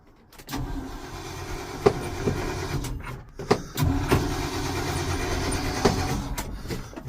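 Cold start of a 1971 Chevrolet C600 truck engine, with sharp mechanical clunks and cranking followed by a rough, uneven running rumble that rises and settles at moderate loudness.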